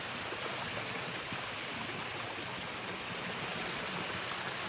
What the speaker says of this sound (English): The river's usually flowing a lot more than this.